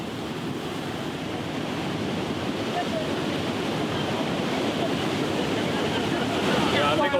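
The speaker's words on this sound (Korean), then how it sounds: "파도가 거세다." Heavy sea waves crash and surge continuously along a rocky Hong Kong coastline below old volcanic rock columns, a loud, unbroken roar of surf mixed with wind buffeting the microphone.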